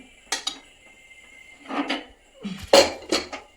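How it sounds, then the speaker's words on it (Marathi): Several metallic clanks and clatters of a pressure cooker lid being handled and opened after cooking jaggery lapsi, with short bursts of hiss between them, close by. "आता आपण कुकर खोलूया."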